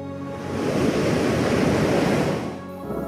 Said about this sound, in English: The furious sound of the ocean surge has significantly altered that and shattered the peace.